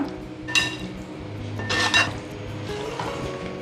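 Lemon and dates pickle being mixed in a pan after the gas is switched off, with metal spoon scrapes and a few sharp clinks against the pan, close and moderately loud.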